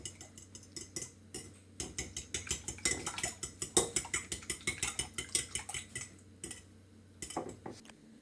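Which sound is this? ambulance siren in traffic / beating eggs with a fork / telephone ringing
beating eggs with a fork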